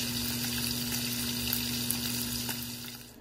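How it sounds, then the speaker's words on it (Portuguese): Beef steaks frying in a pan give a steady, dense sizzle with faint crackles and a low hum underneath, fading slightly toward the end. "Agora estou a fritar os bifes."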